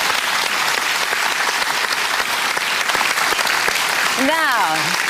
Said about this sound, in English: Please, a round of applause for Sarah Dunant